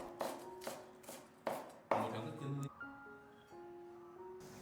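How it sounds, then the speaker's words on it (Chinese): A knife chops a small handful of washed scallions into fine pieces on a cutting board, four or five crisp, close thuds in an uneven rhythm over soft background music, fairly quiet overall. "一小把洗净的香葱直接切成葱花放在碗中"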